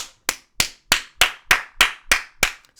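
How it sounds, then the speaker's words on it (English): Nine sharp hand claps land at an even, unhurried pace, each one crisp and close, with no other sound between them. "Let's clap it up for Jay Majors"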